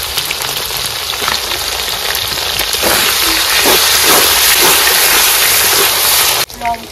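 Cumin seeds, bay leaves and onion hit hot oil in a home kitchen, producing a loud, dense hiss and crackle that holds steady and swells slightly before cutting off sharply near the end.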